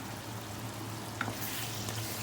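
Karela gosht, bitter gourd cooked with meat, sizzling and frying steadily in a pan over a medium flame, a continuous soft crackle with one brief clink near the middle.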